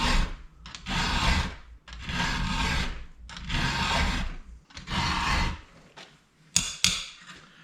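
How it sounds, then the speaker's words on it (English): A sharp file is drawn across the teeth of a Husqvarna chainsaw chain in five long, evenly spaced gritty grinding strokes, close and loud, followed by a couple of quick metallic taps. "grind sound all the way across. That's a good sharp file."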